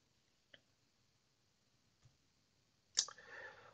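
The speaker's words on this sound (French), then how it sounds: "je clique sur Créer" Two soft, separate computer mouse clicks sound in a quiet room, followed by a brief, louder rustling noise at the end.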